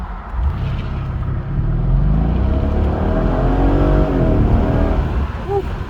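A Mercedes SL550 R231 engine roars steadily as the car accelerates hard from a stop to 40, the tone climbing through the gears, loud and close.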